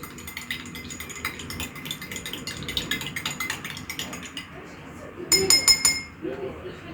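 A metal spoon clinks against a glass holding milk with vanilla as it is stirred, a short burst of bright clinks standing out late over a steady background of kitchen noise.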